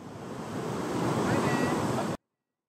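Constant roaring rush of Niagara Falls heard up close, a broad steady wash of falling water that builds slightly and then cuts off abruptly.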